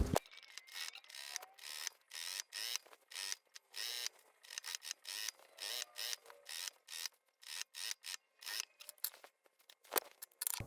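Scissors snip repeatedly through the fabric seam allowance of a side-slit jumper skirt, a quick run of crisp, close cuts and rustles with short pauses between.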